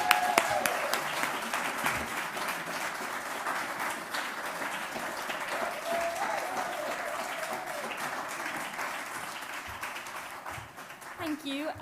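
Conference audience at a teaching and learning forum applauds student presenters, a dense sustained round of clapping lasting throughout, with some voices and chatter mixed in underneath.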